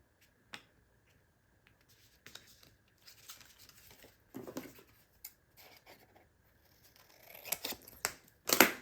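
Paper snipped with scissors at close range, a few sparse clicks and short cuts that build into louder crisp snips and rustling near the end, no talking.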